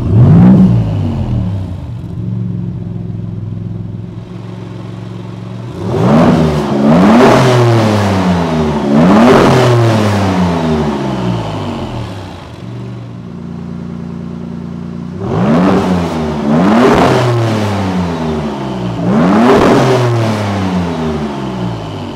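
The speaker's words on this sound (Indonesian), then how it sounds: "dia ini mesin V6 dan suara V6 nya menurutku keren" A Maserati MC20's V6 engine fires up and revs repeatedly, loud and close, with rising and falling sweeps in two bursts separated by a quieter idle.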